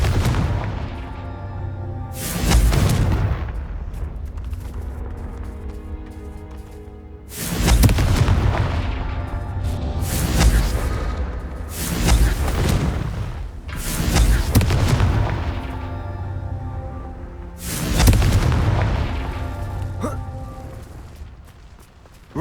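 Repeated Confringo fire-blast spells in the video game Hogwarts Legacy, about five heavy booming bursts, each followed by a rumbling decay, loud and evenly spaced with no talk.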